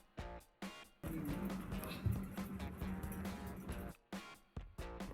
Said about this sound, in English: when your ceiling fan's making that kind of sound, it's known as bearing noise